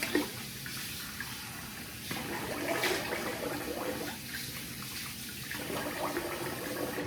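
Tap water runs steadily from a bathroom faucet as a face is rinsed after a double-edge razor shave, with splashing, a close hiss and small surges in level throughout.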